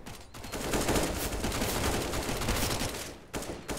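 Dense, rapid Mac-10 submachine gun fire in Counter-Strike, loud and continuous with brief gaps between bursts, sounding close and sustained throughout.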